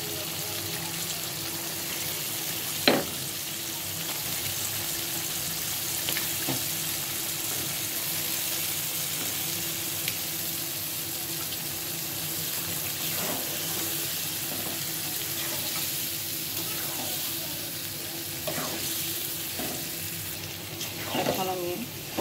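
Pieces of duck meat fry in spiced oil with a steady close sizzle, with occasional stirring clinks and scrapes on the pan.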